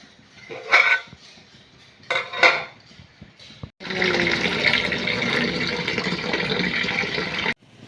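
Two sharp metallic clanks of a pot lid opened on boiling cassava, then a loud, steady rushing hiss of steam and bubbling that cuts off abruptly.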